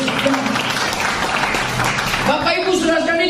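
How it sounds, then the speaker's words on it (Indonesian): Church congregation applause during an Indonesian sermon, loud clapping from a crowd that fades as music and voices rise toward the end. "ya tepuk tangan buat Tuhan Yesus"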